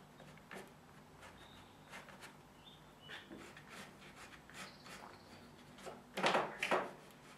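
Watercolour paint scraped with a small piece of card to lift light areas in a mountain scene: quiet dry rasping strokes, several faint scrapes followed by two louder, closer passes near the end, no talk.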